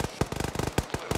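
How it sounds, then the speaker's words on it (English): Rapid light machine gun fire in a video game, a fast string of sharp close bursts over about a second, some shots louder than others. "Hey, they're light machine guns!"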